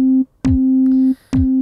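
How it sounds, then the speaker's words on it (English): Pure sine wave sub oscillator on a Roland MC-909 groovebox, a steady clean low tone played as three separate held notes with gaps between, clear and alone. "So there's our sine that I've got selected."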